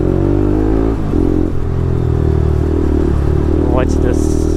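Yamaha R1M sport motorcycle fitted with an Akrapovic exhaust, heard close up on a city street, its engine running with a loud steady rumble and brief rising revs under background noise.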